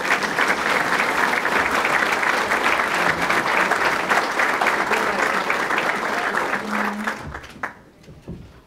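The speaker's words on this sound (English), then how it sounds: "let's give them a round of applause" Sustained applause from a full room of audience members greeting speaker Bob Schillerstrom, steady and dense throughout before tapering off near the end.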